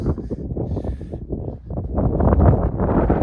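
Wind gusting across open Dartmoor moorland near Great Mis Tor, a steady close rush of buffeting microphone noise that swells louder toward the end, with no voices.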